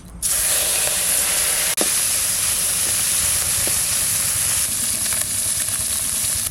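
Mustard oil sizzles in a hot wok, probably with turmeric-and-salt-coated small koi fish added, making a steady, loud, close broadband hiss that holds for the full stretch with only a momentary dip.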